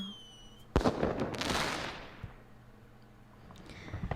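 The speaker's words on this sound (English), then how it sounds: "As dusk falls, fireworks bloom in the distance." Fireworks in the video game Xavier: Deluded Fiction: one sharp burst followed by a long fading crackle, then a few faint distant pops, with no talking.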